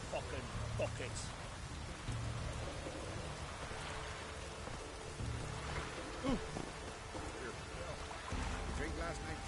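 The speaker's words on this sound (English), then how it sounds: "Raining fucking buckets." Heavy rain pours down in The Witcher 3, a dense, steady hiss of falling water with low rumbles, continuous and fairly close, with a voice speaking over it at times.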